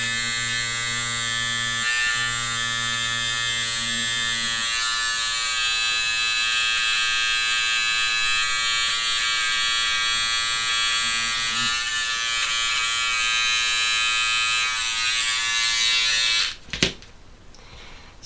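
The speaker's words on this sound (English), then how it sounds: "hit the threads with that little pet groomer" A small electric pet groomer buzzes steadily and loudly while trimming loose fabric threads on a quilted table runner, with a lower hum dipping in and out, then a short clunk as it is switched off near the end.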